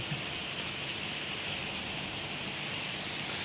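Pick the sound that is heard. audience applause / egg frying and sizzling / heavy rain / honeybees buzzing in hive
heavy rain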